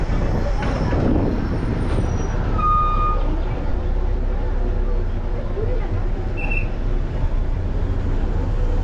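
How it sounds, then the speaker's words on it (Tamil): Chennai MTC city bus No 580 on the Periyapalayam to Avadi route pulling in at a bus stop, a steady low engine rumble with a brief air-brake hiss and a few short beeps over constant road noise. "அடுத்ததாக பஸ் இப்போ நிற்கிறது பெரியார் நகர் பஸ் ஸ்டாப்."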